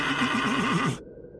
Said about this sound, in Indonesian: Suaranya menjauh, kemudian mendekat, kemudian menjauh, dan begitu terus disertai ringkikan kuda.